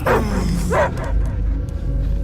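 A dog barks and yips twice in quick succession in the Guardians of the Galaxy video game, loud and close, then softer whimpering and ambient game sound.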